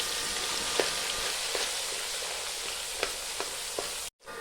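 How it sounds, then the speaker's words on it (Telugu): Ginger paste frying in hot oil, a continuous close crackling sizzle broken by occasional ladle clinks and scrapes, cut off briefly near the end. "గరిటెతో కలుపుతూ ఫ్రై చేసేసుకోండి అల్లం పేస్ట్."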